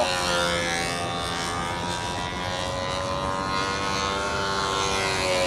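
A model airplane engine drones continuously in flight on a windy field, a steady buzzing tone that stays fairly distant and even for the whole stretch, with no talk.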